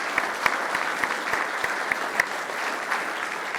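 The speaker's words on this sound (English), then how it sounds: "let's give a big round of applause to our speakers today" Conference audience applauding its panel speakers, a steady wash of many hands clapping at moderate loudness with a few sharper individual claps standing out, continuing evenly for several seconds.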